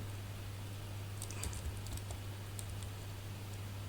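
Quiet bursts of keystrokes on a computer keyboard as code is typed, a quick irregular clatter of clicks over a steady low electrical hum, with no voices.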